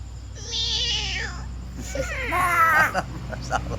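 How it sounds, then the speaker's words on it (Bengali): Small kittens meowing in a rapid run of thin, high, wavering cries, close and fairly loud, with a second burst of overlapping mews after a short gap over a low background hum. "এটা ছোট ছোট বিড়াল।"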